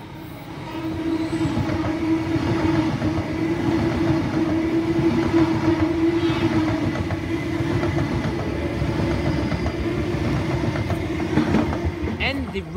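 A passenger train heading for Bondi Junction rolls past near Kiama, a steady loud rumble with a droning motor tone and rail clatter that holds for the whole stretch, with a brief sharp squeal near the end.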